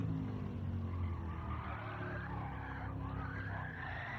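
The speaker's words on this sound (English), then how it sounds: "then you let go of the brakes and it slides" Tyres skid and squeal as a car slides with oversteer in the Gran Turismo 7 racing game, a continuous screech layered over steady engine drone from start to finish.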